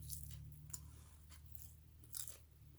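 Crunchy fried chicken wings being bitten and chewed close to the mic, several crisp crunching bursts over a steady low hum.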